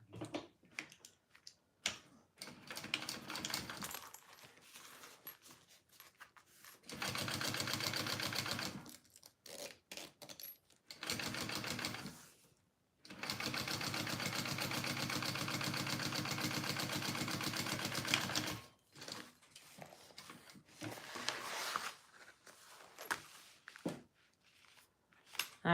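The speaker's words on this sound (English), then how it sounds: "now we're going to top stitch" Sewing machine top stitching fabric pieces of a crossbody bag, two long continuous runs of steady mechanical whirring, each several seconds, with clicks and handling sounds before and between them.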